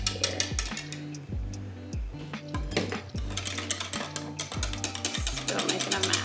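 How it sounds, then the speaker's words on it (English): A whisk beats apple cider loaf cake batter in a bowl with fast, rhythmic clinks and rattles against the sides, close and continuous, over a low steady hum. "Probably better to use our whisk here."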